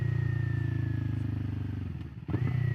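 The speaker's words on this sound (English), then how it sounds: "Downshift's nice and crisp." A 2021 Kawasaki Ninja 400 motorcycle downshifts on an uphill road, its close, loud engine note pulsing under engine braking, then dipping briefly before the revs jump back up with the lower gear.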